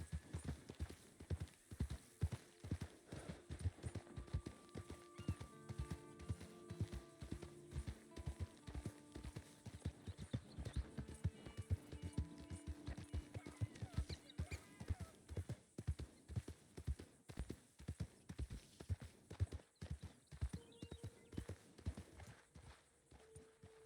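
A horse's hooves clip-clop steadily at a walking pace in the video game Red Dead Redemption 2, close and continuous, with faint ambient hum and soft game music beneath.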